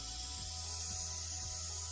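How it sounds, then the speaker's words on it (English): Coolant hisses and sprays from a car's radiator cap after a thermostat change, a steady high hiss over a low idling engine hum, close by with no talking. "Spraying out the cap."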